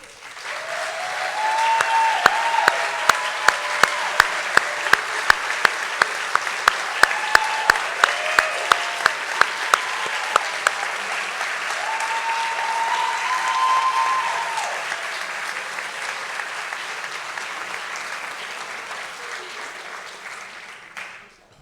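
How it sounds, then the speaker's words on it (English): Ordinands standing to applaud the audience at an ordination ceremony, sustained loud clapping from a group with a few sharp individual claps and brief cheers, swelling then gradually tapering off. "I'd like to now invite this year's ordinands to please rise and applaud you."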